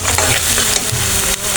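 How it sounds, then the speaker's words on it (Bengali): Onion and chilli frying in a pan while cooking a beef bharta, a loud, close sizzle with stirring scrapes over a steady crackling hiss. "আমি এখন পেঁয়াজটা ভেজে নেব, মরিচটা ভেজে নিচ্ছি"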